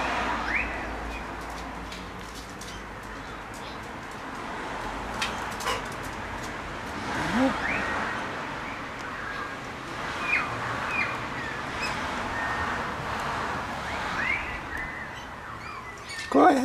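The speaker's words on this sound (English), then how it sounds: "We've got a big extended family of Galahs out the front." A flock of galahs in a tree out the front of a house gives repeated scratchy, screeching calls at a moderate distance, scattered irregularly over steady outdoor background noise.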